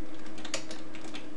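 Rapid keystrokes on a computer keyboard as code is entered, a steady run of close, crisp clicks with no talk.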